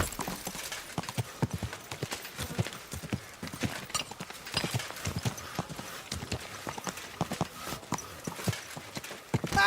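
Horse hooves clip-clopping steadily on the ground while riding in the medieval game Kingdom Come Deliverance 2, a continuous rhythmic trot heard close and fairly loud with no talking.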